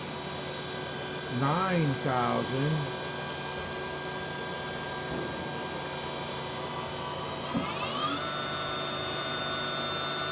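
A Doosan Puma MX1600ST CNC lathe spindle runs at high RPM with a constant high-pitched whine over a mechanical hum, with a short chirping pitch sweep early on and a rising tone near the end.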